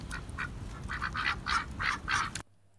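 Ducks quack in a quick run of raspy calls, with a goose guarding them nearby. The calls grow louder through the burst, then cut off into near silence.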